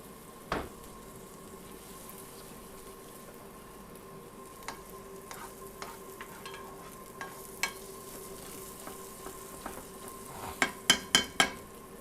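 Chorizo fries gently in oil for a shellfish and chicken paella, a low steady sizzle with a faint hum beneath, broken by occasional light clicks and a quick run of sharp utensil taps near the end.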